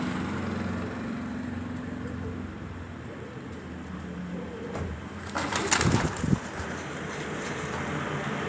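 Pigeons coo in cages at a pigeon dealer's loft in Alexandria, a soft low murmur under wind-like background noise, with a louder burst of fluttering and clatter near the end.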